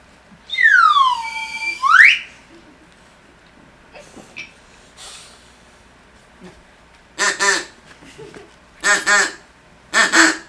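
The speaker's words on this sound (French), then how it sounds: "Deux canards qui se marrent" A swooping whistle opens, then three short bursts of nasal quacking come near the end, close and fairly loud, separated by quiet gaps.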